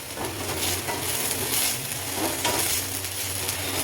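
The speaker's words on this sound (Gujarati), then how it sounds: "આદુ અને લસણને ત્યાં સુધી મિક્સ કરતું રહેવાનું જ્યાં સુધી આદુ અને લસણનું કચાશ દૂર ના થાય" Ginger and garlic stirred and fried in a pan for Punjabi dal makhani, a continuous soft sizzle with light scraping strokes of a spoon, close and steady, no voices.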